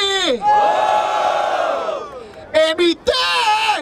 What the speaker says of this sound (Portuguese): Barulho para as rimas do Gu!